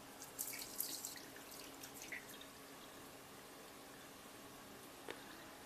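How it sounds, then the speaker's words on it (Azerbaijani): Water trickles and drips slowly into a shaving brush loaded with cream soap, a faint, quiet splash with a few brief drips standing out early on over steady low background noise. "Artıq hopuldu və asta-asta suya əlavə edirik yoldaşlar."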